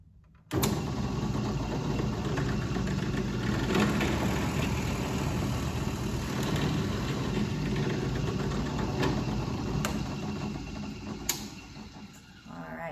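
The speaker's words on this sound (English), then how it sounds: "I'm going to push it through the wood and drill a hole for you." A drill press runs steadily through a piece of wood in a small wood shop, a constant whirring motor drone that holds at an even level for over ten seconds, with a few faint clicks near the end.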